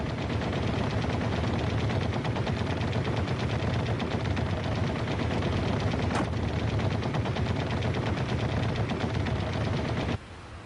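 Machine gun fire from the heavy 12.7mm guns of American fighter aircraft, a loud, dense, continuous roar of rapid shots lasting about ten seconds before cutting off abruptly.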